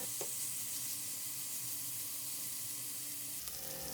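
Chicken pieces frying in oil in a pan for a chicken omelette, a steady hissing sizzle with a brief clatter near the start and another near the end, close and with no talk.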